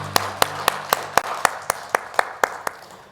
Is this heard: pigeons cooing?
no